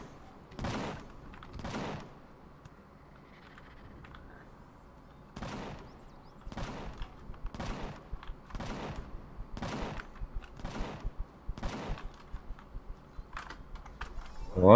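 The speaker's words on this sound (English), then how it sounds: "The base is shooting at something." Base turrets in the Empyrion Galactic Survival game fire at something near the trees, a series of evenly spaced sharp shots in two bursts over a steady low hum, with no talk.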